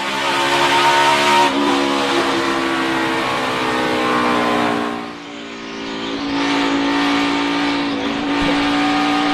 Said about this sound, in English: Sadler goes sideways and Allgaier wins it at Dover